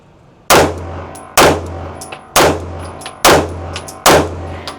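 A Kimber 2K11 Comp pistol fires five loud, sharp shots in steady succession at roughly one-second intervals, each crack followed by a short decay, close and outdoors on a range.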